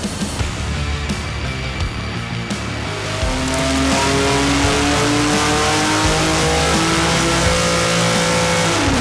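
BMW S58 engine revving hard on a charge air cooler manifold intercooler test, a loud, continuous roar that climbs and holds at higher revs, heard close and alone without talk.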